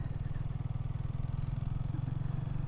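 A motorcycle engine idles in a steady, rapid low thump while coasting on the brake with the clutch partly released, close and even throughout.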